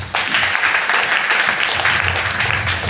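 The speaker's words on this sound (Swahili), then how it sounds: "Piga Yesu makofi" A church congregation claps together in a dense, sustained round of applause at a Sunday service, filling the room steadily for a few seconds with no talk.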